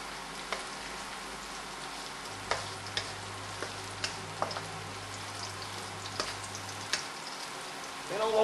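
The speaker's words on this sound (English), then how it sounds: "the onions are starting to go brown" Onions caramelising in a frying pan give a steady close sizzle, broken by occasional light clacks from stirring; no talking is heard.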